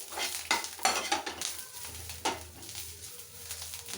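Groundnuts being sautéed in a pan for chutney, with soft stirring scrapes and a faint, steady sizzle, plus a few light clinks of a utensil against the pan.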